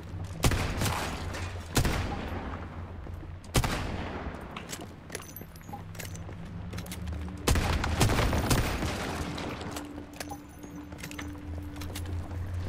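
Repeated gunfire from Once Human, heavy bursts and single loud shots recurring every couple of seconds, with a steady low hum and scattered clicks between them.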